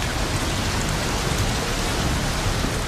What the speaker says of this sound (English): Just as the crops were planted, it started to rain, and it rained, and it rained